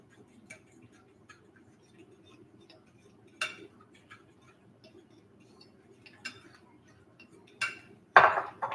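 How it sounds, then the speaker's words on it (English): Spoon scraping and tapping against a bowl while stirring deviled egg filling with Kraft sandwich spread and relish, a few sparse clinks and scrapes, close and fairly quiet, with a brief louder clatter near the end. "Do a little stirring."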